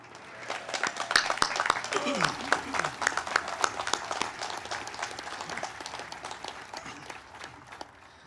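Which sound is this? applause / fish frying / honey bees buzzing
applause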